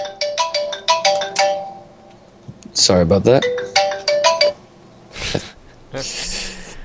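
A phone text message notification plays a bright melodic chime in quick repeated bursts, interrupting a Minecraft modded survival session, with a person speaking between the tones.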